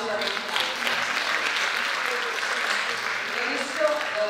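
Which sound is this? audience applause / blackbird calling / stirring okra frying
audience applause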